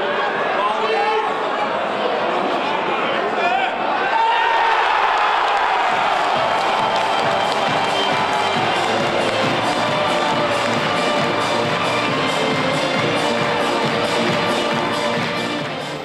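Football fans, home supporters and travelling Duisburg supporters, erupt into loud sustained cheering in the stadium stands, with a roar of crowd noise swelling after a few seconds and holding, with chatter mixed in.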